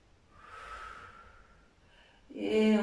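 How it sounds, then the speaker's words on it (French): Slow, soft breath drawn in and let out during a standing yoga balance pose, close and quiet, followed by a louder, brief voiced exhale near the end. "Encore un souffle."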